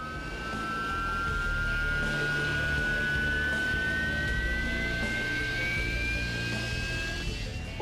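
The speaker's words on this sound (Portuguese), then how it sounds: "Marinha inglesas têm uma única frota de Harriers. Aqui na Escócia, eles estão em treinamento para pouso e decolagem vertical de qualquer lugar, em qualquer condição." A Royal Navy Harrier jet training for vertical takeoff and landing in Scotland gives a sustained loud turbine roar with a high rising whine, steady throughout.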